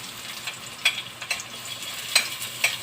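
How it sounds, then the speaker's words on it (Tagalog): Garlic frying in a hot pan gives a steady, moderate sizzle with a few sharper stirring scrapes spread through the short stretch, and no one talks. "Lagay na natin yung bawang."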